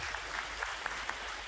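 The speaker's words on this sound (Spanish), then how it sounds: "Y un aplauso para don Carlos, que se lo ha ganado" A TV game show studio audience applauds a contestant, a short, faint burst of steady clapping heard from a distance.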